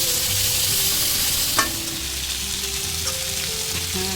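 Oil fries in a wok on a gas stove with a steady, close sizzle and crackle. There are a few faint stirring clinks and no talking.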